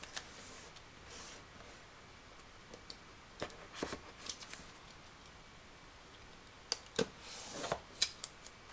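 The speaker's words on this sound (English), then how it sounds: "I'm just gonna cut open the box real nice." A penknife slices open the cardboard box of an Apple Watch Sport 42 mm in Space Grey, giving faint scratchy cuts and small sharp ticks and snaps, sparse at first and clustering toward the end.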